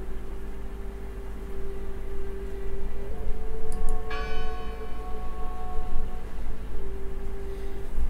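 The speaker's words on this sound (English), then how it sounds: "I heard the bell!" A bell tolls once in the video game Draugen, a single ringing strike that hums on and slowly decays over a steady low drone, fairly near and clear.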